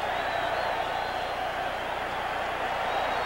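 A boxing arena crowd of about 17,000 roars in a steady, loud, unbroken wash of cheering that fills the space for the whole stretch.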